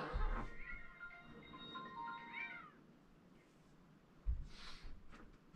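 A well-groomed cat meows up close in a rural home, one long drawn-out yowl followed by a shorter call after a brief pause, with no talking.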